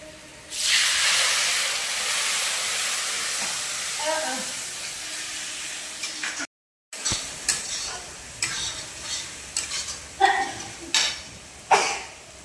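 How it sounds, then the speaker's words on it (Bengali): Spice paste of coriander, cumin, turmeric and chili mixed with water frying in a pan, a loud steady sizzle and hiss with a brief cut, then stirring scrapes and clatters of a utensil against the pan. "মশলাটা ভালো করে কষিয়ে নেব।"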